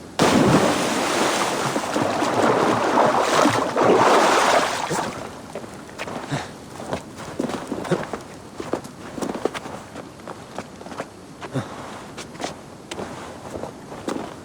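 Oars splash and knock rhythmically as a wooden boat is rowed across a lake in Assassin's Creed Valhalla, starting with a loud rush of water, then steady paddling strokes.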